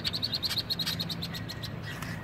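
A small bird calls insistently near a nest, giving a rapid run of high, sharp chirps that repeat rhythmically before thinning out, over a low outdoor background hum.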